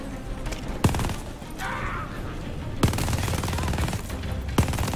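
Mounted turret machine gun firing in Call of Duty: Vanguard, sustained rapid bursts close and loud, with a few sharper heavy blasts among them.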